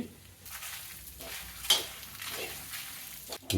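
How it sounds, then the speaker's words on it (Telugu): Lentils and dried red chillies fry on medium flame in a pan, giving a soft, steady sizzle broken by a few scraping stirs of a utensil against the metal. "వీటన్నిటిని గోల్డెన్ బ్రౌన్ వచ్చే వరకు మీడియం ఫ్లేమ్లోనే వేయించుకుందాం"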